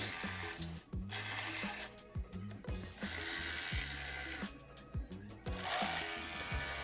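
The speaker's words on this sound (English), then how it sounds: "I love this little battery operated Milwaukee jigsaw." A battery-powered Milwaukee jigsaw cuts through material in bursts, its rapid buzzing rasp rising and dropping in short pauses, sped up and close, with occasional faint voices.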